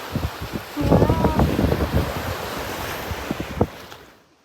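Ocean waves wash onto a seashore in Japan, a rushing surf over gusting wind buffeting the microphone, loud and close before fading out at the end.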